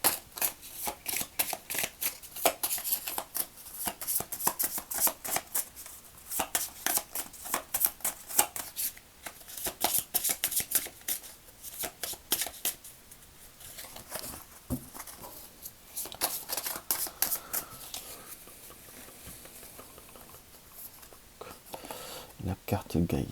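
A deck of Gaia oracle cards is shuffled continuously for over twenty seconds, giving dense riffling flutters and soft slapping bursts close to the microphone at a steady, busy pace.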